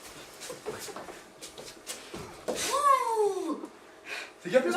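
On an improv comedy stage, a performer imitates a cat with a drawn-out, wavering meow that slides downward, close and fairly loud, between bursts of stage movement and other vocal noises.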